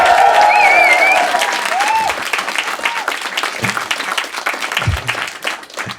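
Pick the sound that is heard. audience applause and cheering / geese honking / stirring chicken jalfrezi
audience applause and cheering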